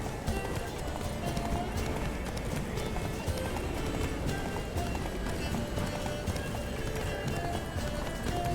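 Hooves of a galloping horse in the video game Witcher 3, a dense, continuous rhythmic drumming with a steady, full, loud texture throughout.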